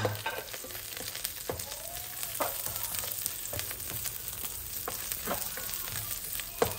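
Chopped onions sizzle in hot cholesterol-free cooking oil for a native chicken dish. The frying hiss runs steadily throughout, broken by occasional scraping and clinking strokes as the pan is stirred.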